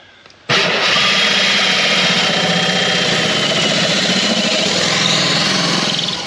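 A power drill starts abruptly and runs at a loud, steady whine, grinding continuously through an exterior wall without pause, boring a hole for a mini split heat pump line set.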